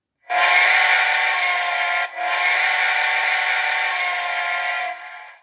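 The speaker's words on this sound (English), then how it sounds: "Broadway does a great job on their steam locomotives as far as the whistle goes" Sound-system whistle of a BLI Southern Pacific Daylight GS4 model steam locomotive blowing two long, loud chime blasts close by, the first cut by a brief dip before the second holds and then fades, with no voices.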